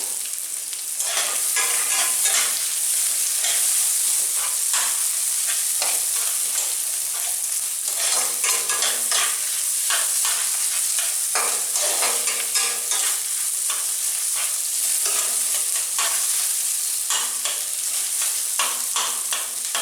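Katla fish roe frying in a pan with chillies, stirred steadily, giving a continuous close sizzle broken by repeated scraping strokes of the spoon throughout.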